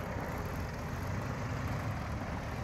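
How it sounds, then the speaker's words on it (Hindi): A Farmtrac 6055-class 4WD CRDI tractor engine rumbles steadily in a field, a continuous low-pitched drone at moderate distance with no speech over it. "हर भाई ट्रैक्टर चल रहा है"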